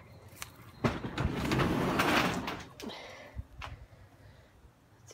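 A door is opened during a walkthrough of a house, a long sliding rumble with scattered knocks and clicks, moderately loud and near, with no talk over it.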